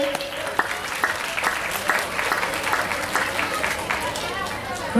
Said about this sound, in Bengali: সবাই জোরে একটু হাততালি দেবে